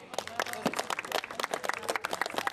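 Crowd applause at a family marathon prize ceremony in Bytów, Poland, a dense patter of clapping from an outdoor audience, moderately loud and steady, with voices mixed in.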